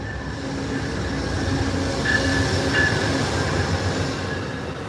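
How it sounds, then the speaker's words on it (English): A train rolls past at a rural outdoor camp, a steady broadband rumble of wheels on rail sustained throughout, with faint wheel squeal rising briefly midway; no talk over it. "I'm gonna let this train go by."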